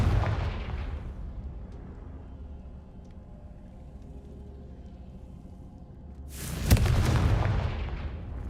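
A Confringo blasting spell explosion in the video game Hogwarts Legacy, a deep booming blast that fades into a low rumble before a second loud, broadband burst near the end.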